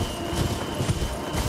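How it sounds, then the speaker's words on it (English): Footsteps of a character in Elden Ring, moving through the Road's End Catacombs, tread as a steady run of soft thuds over a dull, hollow ambient drone, with no voices. "Or footsteps, I should say"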